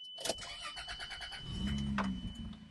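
A 1997 Toyota Land Cruiser engine starting up: a brief cranking whir from the starter, then the engine catching and settling into a steady low idle, heard close with no speech.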